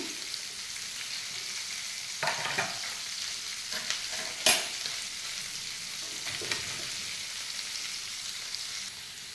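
Capsicum and onion cubes sauté in a pan, giving a steady soft sizzle with a few scraping stir strokes throughout, close and moderately quiet, with no talking.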